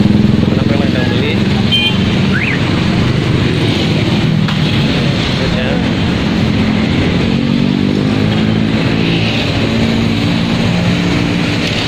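Motorbikes of buyers crowding a busy roadside siomay stall in the evening, a steady loud rumble of idling and passing engines mixed with street noise and people talking.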